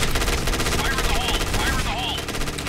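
Rapid automatic Uzi fire in a shooting video game, a dense, continuous stream of loud shots that stays steady from start to finish with no pauses, with faint high whistling effects over it.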